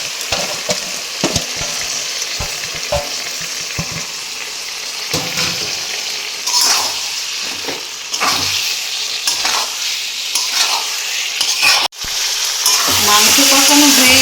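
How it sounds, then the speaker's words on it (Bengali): Mutton being sautéed for Bengali kosha in a pan, with a loud, close, continuous sizzle broken by repeated scraping stirs and a brief dropout near the end. "এবার মাংসটা কষিয়ে নেব।"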